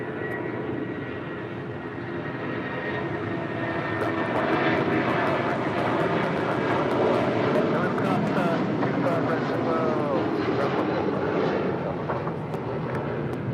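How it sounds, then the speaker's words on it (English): United Airlines Boeing 757-300 jet departing LAX for Chicago, a loud sustained engine roar that swells slightly midway, with a voice talking over it. "2039 departing to Chicago here on a 757-300."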